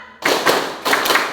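Students in a middle school counting game clap in unison, two or three crisp group claps close by, with no voices.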